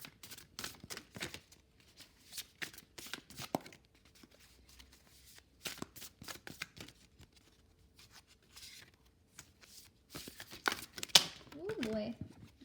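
A deck of tarot cards is shuffled by hand in bursts of crisp riffling and flicking, quiet and close, with short pauses between passes and a louder flurry near the end.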